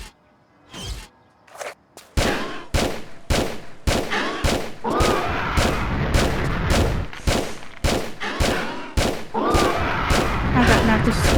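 Rapid gunfire in the Tomb Raider Chronicles video game, set in Rome: a long run of sharp, evenly spaced shots, loud and close, following a few scattered bangs.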